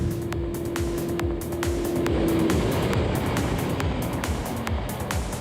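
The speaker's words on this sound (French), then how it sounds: "ce 4 cylindres de 1300 cm3 pousse comme une brute" A loud 1300 cc four-cylinder Suzuki Hayabusa motorcycle engine roars steadily throughout, with dense rumbling and wind rush, pulling hard at high speed. No talking.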